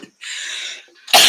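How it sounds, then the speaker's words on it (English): A person coughs up close: a short throaty burst, a brief pause, then a second sharper, louder cough. "Thanks for enduring my coughing."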